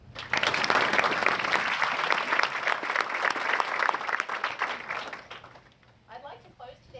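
Sustained applause from a school audience at a senior investiture ceremony for a graduating class, steady clapping over several seconds and then fading out, with a few voices afterward.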